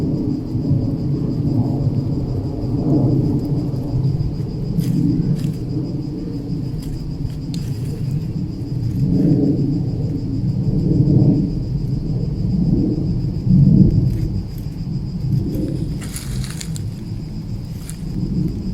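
A deep, steady roar of an airplane passing overhead fills the whole stretch, loud and continuous, with a faint high whine above it.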